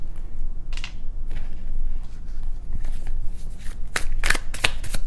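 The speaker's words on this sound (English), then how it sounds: "let me pull a few cards from the Osho Tarot cards." Osho Tarot cards being handled and pulled from the deck: soft papery shuffling and sliding through the clip, with a few sharper card snaps and flicks near the end, close by and with no talking.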